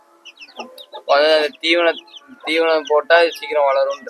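Chickens on a Rajapalayam farm being raised on poultry feed cluck loudly and close in a run of repeated calls, while people talk nearby.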